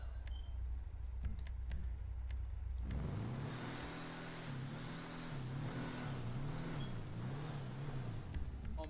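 The engine of a Bravado Youga Classic van in GTA starts up after a few clicks, then idles and revs in a smooth wavering hum that rises and falls repeatedly, close and alone.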